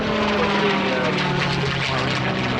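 A Mustang fighter aircraft flies past at an air show in Australia, its piston engine and propeller giving a loud, steady droning roar that fills the whole moment.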